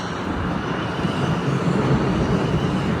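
A train passing nearby outdoors, giving a steady, loud rumbling roar that holds for a few seconds without a break.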